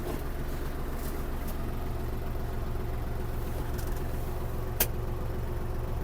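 A Kubota GL-320 mini tractor engine idles steadily with a low, even rumble throughout, and a single brief click occurs partway through.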